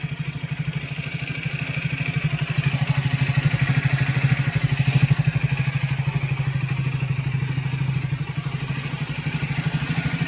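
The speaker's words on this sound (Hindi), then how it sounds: "तो अभी थोड़ी देर बाइक चालू करके रखना पड़ेगी" A Triumph Speed 400 motorcycle with an oil leak idles nearby with a steady, fast, throbbing chug that holds an even pace throughout, loud and close, without any talking.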